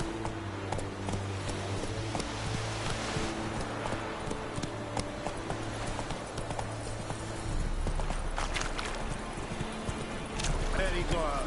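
Hoofbeats of the horse Roach clip-clop steadily through a busy video game soundscape, with a whinny, music and game effects mixed in and a voice talking over the action.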